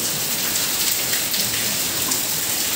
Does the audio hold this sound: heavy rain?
yes